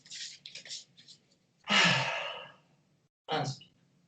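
Calm, slow breathing during a relaxation exercise: one long, soft exhale followed after a pause by a shorter breath, close and unhurried.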